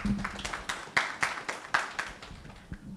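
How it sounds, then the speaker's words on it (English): Scattered applause from a small audience after a five-minute presentation in an online breakout session, with uneven separate claps rather than a full ovation. "Must have all the applause for him."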